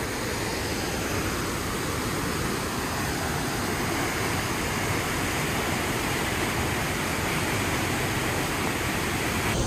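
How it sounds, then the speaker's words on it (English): The Rio Celeste waterfall in Costa Rica gives a steady, dense roar of falling water, constant and full, with no breaks or other sounds standing out. "So we made it to the Rio Celeste waterfall."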